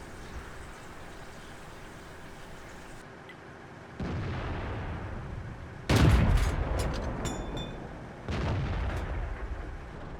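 Tank cannon fire in World of Tanks on the Prokhorovka map: heavy booming shots land at about four, six and eight seconds, each a loud burst with a rumbling tail over steady engine and battle ambience.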